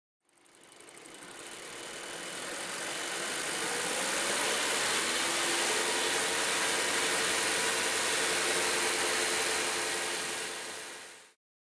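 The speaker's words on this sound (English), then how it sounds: "The engine is now running rich of stoichiometric." A car engine idles steadily while running rich of stoichiometric during exhaust gas analysis, giving a constant, loud hum that fades in and out at the edges with no talking.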